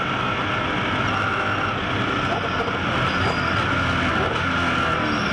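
Porsche GT race car, the Trulot Porsche, lapping Bathurst in a 2010 Australian GT Championship race, a steady sustained engine roar at middle distance blended with broadband circuit noise, with no distinct pass-by.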